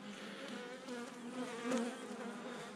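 Honeybees at the hive give a continuous, even buzz, steady and moderately close, with a slight swell midway and no talking.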